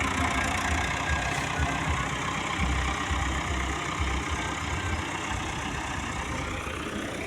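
A tractor hauling a trolley loaded with soil runs steadily close by, a continuous low, rumbling engine drone holding an even loudness throughout with no talk.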